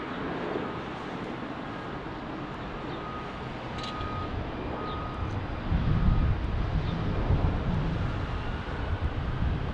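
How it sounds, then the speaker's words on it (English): An Embraer Phenom jet climbs steeply out of mountainous terrain near Salt Lake City, a broad distant roar that swells slightly toward the end, with wind noise and no speech. "An Embraer Phenom."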